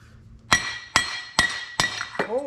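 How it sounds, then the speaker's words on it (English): Repeated metal striking while working a corroded bolt out of a Hustler zero-turn mower: four sharp, ringing hammer-like blows at an even pace, close and loud, followed by a fainter scraping tone. "This bolt is just not wanting to come out."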